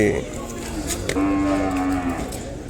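At a cattle market in Kodad, a young calf under a year old lets out one long, drawn-out moo close by, with little else around it.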